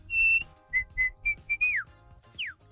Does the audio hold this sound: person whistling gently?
yes